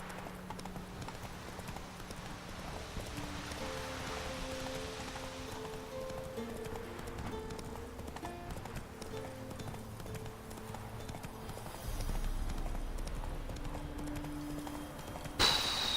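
Horse hooves in The Witcher 3, a rhythmic clip-clop running under quiet game music and ambient rain, with a louder rumble near the end.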